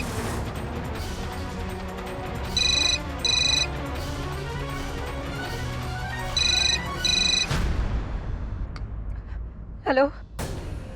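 Telephone ringing in a Hindi TV drama scene, two pairs of bright electronic rings repeating over a tense background score, followed by a loud crash and a gasp-like swell.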